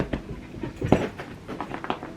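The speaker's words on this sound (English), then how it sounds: "The dogs want the ball thrown from them." Dogs indoors pant and whimper eagerly, waiting for a ball to be thrown, in a run of short, close breaths, soft whines and a few scuffles.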